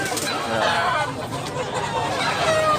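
Roosters and hens cluck and crow at a gamefowl sale in Tabunok, Cebu, a busy chorus of calls, close and far, under buyers chattering in the background.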